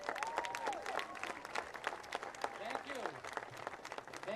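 Audience applause at the 2014 Revere Beach National Sand Sculpting awards ceremony, a steady wash of clapping with whistle-like cheers rising over it for several seconds, moderately loud and continuous.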